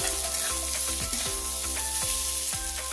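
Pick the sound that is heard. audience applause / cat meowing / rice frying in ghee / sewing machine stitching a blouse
rice frying in ghee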